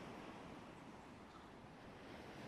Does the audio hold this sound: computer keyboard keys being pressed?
no